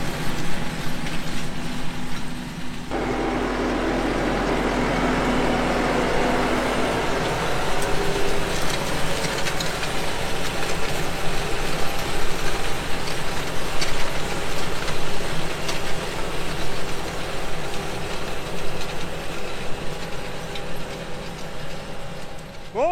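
A tractor pulling a mechanical hoe with finger wheels through rows of maize gives a steady, loud engine drone and mechanical rumble that carries on unbroken in the open field.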